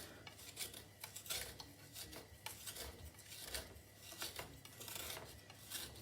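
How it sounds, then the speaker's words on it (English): A knife dragged repeatedly across a chopping board to crush garlic, giving a series of quiet scraping strokes in an irregular rhythm, close and faint with no talking. "drag the knife against the chopping board like that. So you're using the knife then to crush the garlic"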